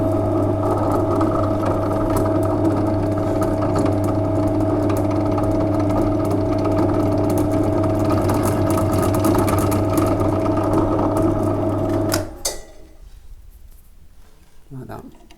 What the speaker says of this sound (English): and then just get it drilled out.